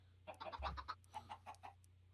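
Minecraft chickens cluck in a quick run of short, bright, bird-like clucks, fairly close and moderately loud, with a low steady hum underneath and no talking.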